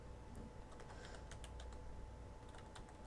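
Keys clatter on a computer keyboard as a /seed command is typed in Minecraft, quick, soft, irregular clicks in short bursts, faint and close, with no talking.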